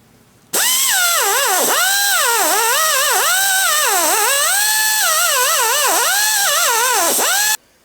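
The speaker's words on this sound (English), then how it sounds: "I'm going to try using this Rollock disc with the Scotch-Brite" A power tool fitted with a Roloc Scotch-Brite disc cleans rusty reducing gear teeth from a Yates American J180 table lift mechanism. It gives a loud, steady whine whose pitch repeatedly dips and climbs as the disc bites into the teeth, running alone for about seven seconds.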